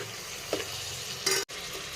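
Onions, green chillies and turmeric frying in hot oil as they are stirred, giving a steady close sizzle with a couple of brief scraping stirs and a short sharp knock near the end.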